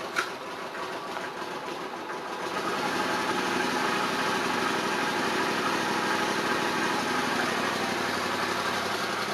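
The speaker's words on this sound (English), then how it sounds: "Pull that choke out and let it warm up. Got a sweet sound." A 1981 Honda Silverwing GL500 motorcycle starts and settles into a choked idle, a brief sharp catch and then a steady rapid chugging that grows slightly louder and holds, close by with no speech.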